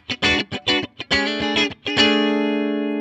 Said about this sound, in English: here's a super reverb. And again, this is set for clean.